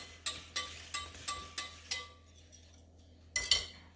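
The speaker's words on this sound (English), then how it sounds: "We're going to whisk this together real quick." A whisk clatters against a bowl while mixing dry ingredients for keto biscuits: six sharp metallic clinks at an even rhythm, a short pause, then two more close, bright taps.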